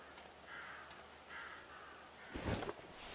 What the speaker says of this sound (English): I can hear birds or crows